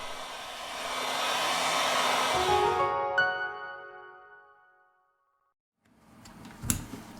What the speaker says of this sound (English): We apply heat to the device to remove the battery cover.